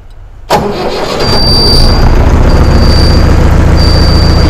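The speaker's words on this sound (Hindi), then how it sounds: "चलिए ट्रैक्टर को स्टार्ट करके आपको इसका आवाज़ सुनाते हैं" A Mahindra Novo 655 tractor diesel engine cranks with a sharp start, then settles into a loud, steady, close-up rumble at slightly raised revs, with a faint high whine above it.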